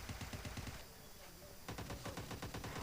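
Rapid automatic gunfire from PUBG Mobile Lite rattles in fast, loud bursts, pausing briefly near the middle before another sustained volley resumes, with a voice talking faintly beneath.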